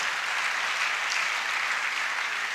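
A church congregation applauds together, a dense, steady wash of clapping filling the room without a break.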